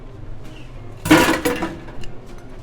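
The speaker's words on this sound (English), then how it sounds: "I'm gonna dump this ice and get ready for my egg" Ice dumped out of a metal cocktail shaker tin gives one loud, close clattering rush of cubes, then a few small clinks as it settles.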